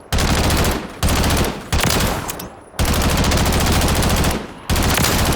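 Automatic rifle fire in the video game Call of Duty, heard as loud, close, sustained bursts of rapid shots separated by brief pauses, four or five strings in a few seconds.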